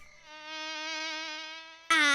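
A voice imitates buzzing bees with a steady, nasal, droning hum that lasts well over a second, then breaks into a sudden louder burst at the end.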